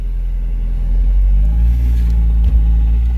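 A Mazda Miata, just converted to a manual gearbox, drives off with a steady low engine rumble that swells slightly partway through, ending in a brief bump or scrape-like thud near the end.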